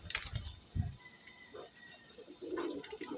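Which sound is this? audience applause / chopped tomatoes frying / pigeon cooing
pigeon cooing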